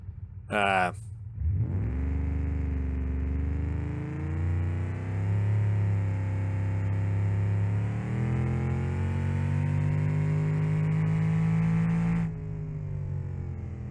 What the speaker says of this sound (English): Cars without mufflers now, they are unbelievably loud.